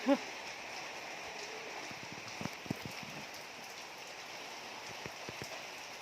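Light rain patters softly on a surface, with scattered drips and taps against a quiet background.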